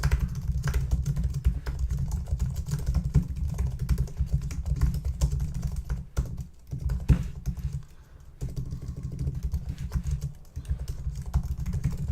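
A short message is typed on a computer keyboard in a fast, continuous patter of close key clicks, with a few brief pauses partway through.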